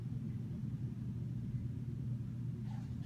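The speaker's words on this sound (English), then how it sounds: "And there goes some thunder." Low, steady rumble of distant thunder during a summer thunderstorm in Eastchester, a faint continuous roll with no voices.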